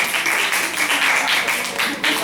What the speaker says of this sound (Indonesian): kasih tepuk tangan dulu untuk kelompok Dina